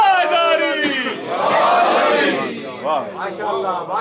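A mourning gathering crowd chants the Naara-e-Haidari slogan in loud, rising unison calls, voices swelling together in a few surging waves heard up close.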